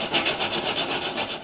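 A hand saw cuts through a seized front subframe bolt on a Jaguar S-Type under restoration, giving a close, steady rasping rhythm of about eight quick back-and-forth strokes in under two seconds.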